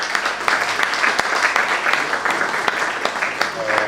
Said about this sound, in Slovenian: Še en aplavz za Mariso.